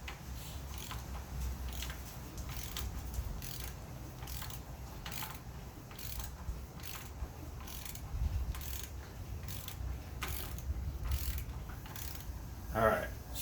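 A 1938 Ford chassis engine is turned over by hand with a ratchet, giving a steady run of quick pawl clicks in repeated bursts. The clicking is close and moderate over a low background hum.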